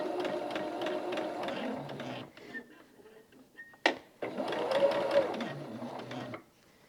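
A sewing machine stitches rows of quilt blocks, two at a time, starting off a leader. It runs in two close, steady bursts with a brief quiet pause between them, and it stops abruptly at the end.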